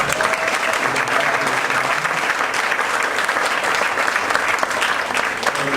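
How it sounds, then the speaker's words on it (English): A conference audience gives a panel discussion a loud, sustained round of applause, dense clapping that holds evenly for the whole stretch without a pause. "let's give one big round of applause for the panel"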